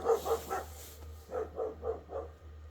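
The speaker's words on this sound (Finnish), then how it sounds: "Mitä koira haukkuu?" Dog barking in two bursts, three quick barks then four more after a pause, moderately near over a steady low hum, recorded during a car audio subwoofer test with a DD Audio 9921 and Ground Zero GZPW 21SPL.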